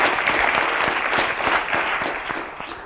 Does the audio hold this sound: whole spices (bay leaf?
no